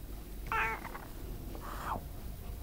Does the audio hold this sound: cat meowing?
yes